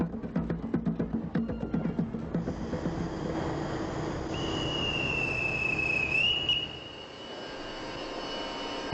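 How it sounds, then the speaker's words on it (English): A conductor's sharp, sustained whistle blows for about two seconds at a train station in Holland, over a steady engine rumble, after a series of rhythmic clacks at the start. "The whistle of the informally dressed conductor announces the continuation of our train journey."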